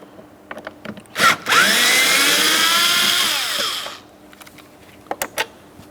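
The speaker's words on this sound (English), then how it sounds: "Deep inside this area, we have another T20 torque screw to be removed." A power tool whirs steadily for about three seconds as it backs a T20 Torx screw out of the front door of a 2008-2016 Chrysler Town & Country, with light clicks and handling noises before and after.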